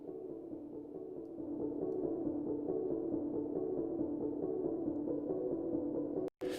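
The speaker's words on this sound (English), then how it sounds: "this last sound I'm using is a Labs plugin. It's called the Tank Piano" A Labs Tank Piano plugin processed into a soft ostinato plays a steady, sustained mid-range pattern at even loudness throughout, with a brief dropout near the end.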